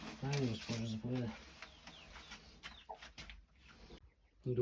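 A broody hen clucks several times in quick bursts close by, followed by quieter rustling and a few soft clucks.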